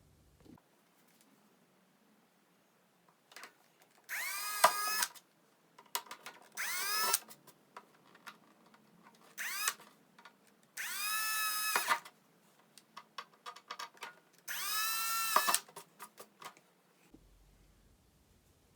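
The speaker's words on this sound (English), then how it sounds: "take a drill and drill it out" A power drill boring holes in the roof rack of a Redcat Gen8 RC truck whines in five separate rising bursts, close and clear, with quiet handling clicks between them.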